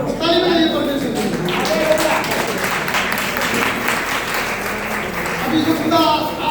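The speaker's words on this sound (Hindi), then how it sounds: "ताली बजाइए परमेश्वर की।" A church congregation claps along while a preacher's voice and music carry on over it, the clapping a continuous busy patter beneath the talk across the whole stretch.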